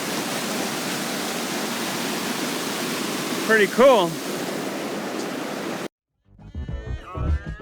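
River rapids rush in a Wyoming forest, a loud, steady whitewater roar that stops abruptly, followed by a person speaking briefly.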